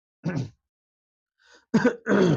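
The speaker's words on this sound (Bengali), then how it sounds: "একটু ঠান্ডা ঠান্ডা ভাবতো তাই একটু কাশি হচ্ছে" A teacher with a cold clears his throat and coughs during a physics lesson: one rough burst, a pause, then two closer harsh bursts in quick succession, loud and near with no talk.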